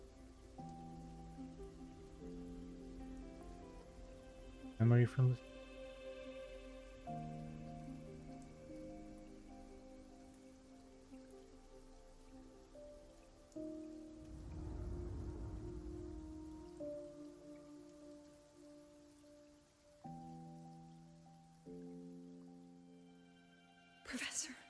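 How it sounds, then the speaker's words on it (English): Rain falls steadily in the Wuthering Waves video game, a soft wash beneath game music, with a brief burst of heavier noise midway and a short spoken line. "Where's the rain coming from?"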